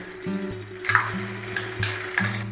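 Fried onions tossed into rice frying on high flame for aloo pulao, a low steady sizzle with a few short scraping stirs of a spatula against the pan, close and without voices.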